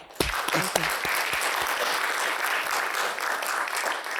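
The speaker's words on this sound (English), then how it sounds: "Let's give her a round of applause." A crowd applauds steadily, a dense wash of clapping that starts with a few sharp claps and holds at an even level throughout.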